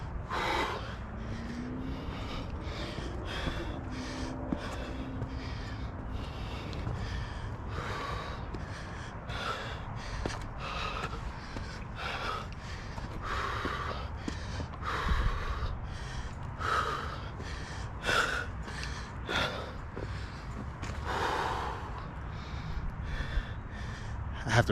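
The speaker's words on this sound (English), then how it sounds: "Sorry for all this heavy breathing" Heavy, labored breathing from a hiker climbing uphill on the Sleeping Giant Blue Trail toward a forest. Close gasps and snorting exhales repeat in an uneven rhythm throughout, over faint footsteps and rustling.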